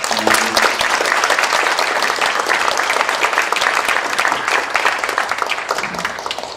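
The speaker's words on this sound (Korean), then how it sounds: "명진 스님의 진솔하고 명쾌한 말씀 큰 박수로 환영하겠습니다" Loud, sustained applause from a large audience welcoming a Buddhist monk to speak at a public lecture, dense clapping filling the whole stretch with a few faint voices mixed in.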